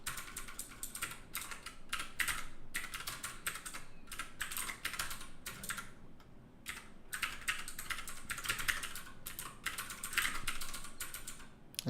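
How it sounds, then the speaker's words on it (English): Rapid, uneven keystrokes on a computer keyboard, typing random characters in quick bursts with short pauses, close and fairly quiet, no talking. "I'll just type in random characters."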